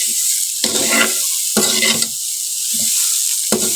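Green peas dry-roasting in a pan, stirred in several scraping bursts that rise over a steady, bright sizzle and fall back between strokes; close and fairly loud, with no talk.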